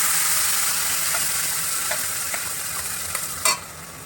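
A spice paste fries and is stirred in a pan with dried red chilli, cumin and bay leaf for a prawn and pointed-gourd dish. A continuous close sizzle runs throughout, broken by a few soft scraping taps and one sharper knock near the end.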